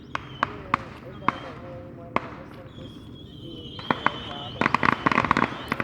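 Video game fireworks bursting in sharp repeated bangs: scattered single pops early, then a thick run of crackling explosions toward the end, with a whistling tone in between and a voice talking over it.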